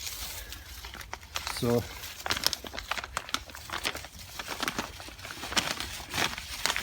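A plastic bag wrapped around an air layering on a plant is opened with soft, intermittent crinkling and rustling, mostly beneath a person speaking nearby.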